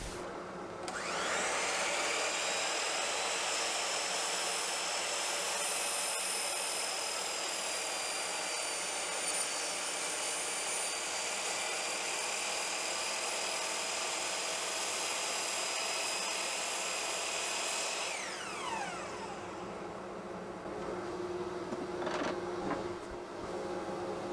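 A miter saw with a 6-inch dust collection line runs through a board, giving a loud, steady whine for about seventeen seconds before the motor winds down into quiet.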